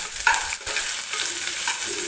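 Onion frying in a pan at the start of a paneer gravy, a steady close sizzle with a few brief stirring scrapes, no voices.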